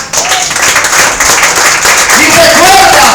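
Church congregation applauding during a sermon, a dense burst of clapping beneath a preacher's loud voice that carries on over it.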